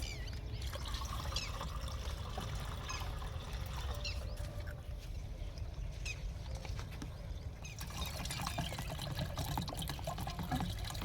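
Bacterial liquid poured from a jar into a sprayer pump for watermelon farming, a continuous soft splashing trickle under steady background noise, with no voices.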